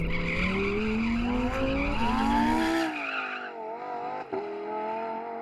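A sports car engine revs hard with rising pitch while tires squeal, then the roar drops back to a lower, rougher growl.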